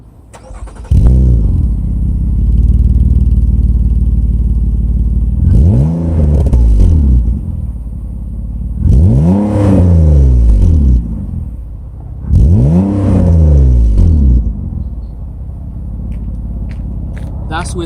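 A Nissan Maxima fitted with a Megan Racing OE RS cat-back exhaust, silencers installed, revs four times in close succession. Each loud, rising rev drops back to a deep, steady idle.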